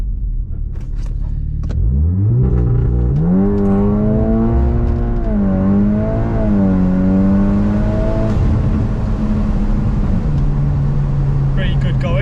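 A car engine revs hard and accelerates from a launch, pitch climbing through several gear changes, loud and close, with some rumble.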